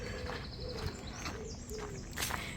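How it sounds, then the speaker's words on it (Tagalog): Birds call along a canal on a hot, dry day, with soft repeated cooing and scattered chirps heard near and far over outdoor background noise, while people walk dogs nearby. "maririnig mo yung mga ibon."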